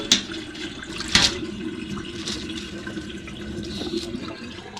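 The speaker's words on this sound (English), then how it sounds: "so I'm going to go ahead and let the water drain out." Water gurgles and splashes as it drains from a container of soaking yucca leaves, with a couple of sharper sloshes early on, then a steady trickling wash.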